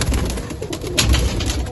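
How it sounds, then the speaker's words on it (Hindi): Pigeons coo softly and continuously at close range, a low murmuring call from a pet taddy pigeon flock kept at home. "टैडी कबूतर वापस आया"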